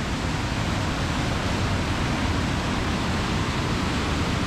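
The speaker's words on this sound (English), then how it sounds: "that other waterfall looks so cool" A river waterfall near Edzell, Scotland pours in a constant, full-bodied roar of rushing water, unbroken and even, filling the space without any voices.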